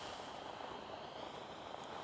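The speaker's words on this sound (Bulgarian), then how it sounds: "Ето вижте, това е хеликоптера." A video game helicopter in a truck-crashing game gives off a steady, faint whirring engine drone with a broad airy noise, unchanging for about two seconds and with no speech.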